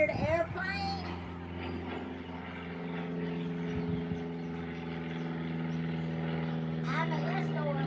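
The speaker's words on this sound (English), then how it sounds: "Y'all hear the airplane?" A propeller airplane passes overhead during morning fence building, a steady droning engine hum sustained throughout, with brief voices at the start and end.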